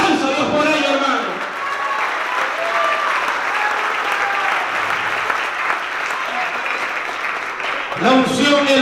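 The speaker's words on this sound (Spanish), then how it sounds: "Denle un aplauso a Dios por ellos, hermano." Sustained applause from a church congregation at an evangelistic service, dense and steady throughout, with a preacher's voice briefly heard at the start and again near the end.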